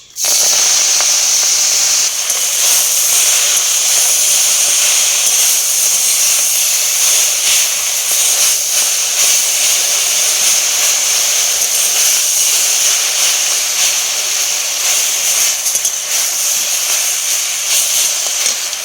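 Leafy greens hiss steadily in a hot cooking pot, a loud, continuous steaming sizzle that begins abruptly and holds without a break, with no voices.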